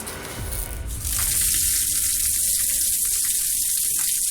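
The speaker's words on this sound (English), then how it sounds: "Water in the ceiling from the rain." Rainwater runs and drips steadily through a rain-damaged ceiling in a new house, a continuous close hiss of falling water that swells after a quieter start.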